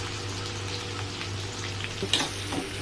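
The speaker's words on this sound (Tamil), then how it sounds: "இப்போது நம்ம வெங்காயம் போட்டுக்கோங்களா, வதக்கணும்" Onions and green chillies sautéing in a pan with whole spices for a potato gravy, a steady soft sizzle and hiss running throughout with a faint clink or stir near the end.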